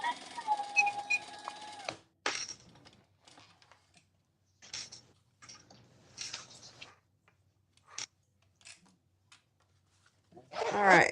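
A sewing machine stitches the corners of a bag in short, quiet bursts separated by pauses, with a faint whine and scattered handling noises near the start and end.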